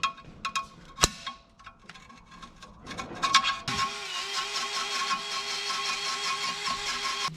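A 1967 Pontiac Firebird engine with a freshly rebuilt flex plate is cranked after some clicks and clunks, then spins over steadily with a rhythmic whirring starter drone.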